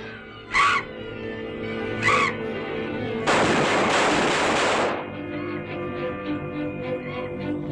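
Two sharp gunshots ring out at a bird, followed by a longer burst of loud noise and a ringing, droning tail, with no talk.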